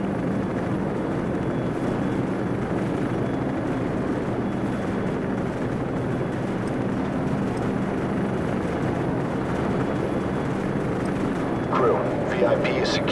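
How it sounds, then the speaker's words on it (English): Helicopter rotor noise from the Call of Duty 4 level Death From Above, a steady broadband drone holding throughout with a brief mechanical burst near the end, under in-game radio chatter. "We're moving towards the helicopters now."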